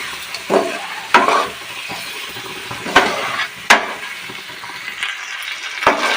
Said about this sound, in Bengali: সামান্য একটু জল দিয়ে মাছের মাথাগুলো দিয়ে দেবো, আরো বেশ কিছুক্ষণ কষাবো।